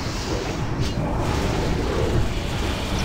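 Continuous heavy rumbling from cannon fire and explosions in a video game, a broad roar that stays loud and steady throughout.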